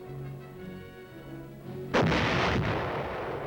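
A single artillery gun fires with one loud, deep boom that rolls out into a long rumbling tail after a low hum, heard alone with no talk.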